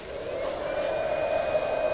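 A vacuum cleaner powered through an inverter in an abandoned liner at night runs as a steady, close, droning whine with a hissing airflow, continuous throughout.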